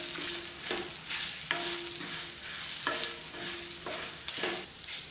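Green chillies are stirred in a hot pan with coriander powder and ground mustard, a spoon scraping and knocking against the metal in a rhythmic series of strokes over a steady frying sizzle, close and alone.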